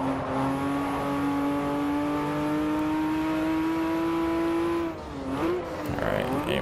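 A Porsche 911 GT2 RS (997) engine in Forza Motorsport 4 holds a steady high drone that rises slowly, then drops suddenly near the end as the revs fall and climb again going into a chicane.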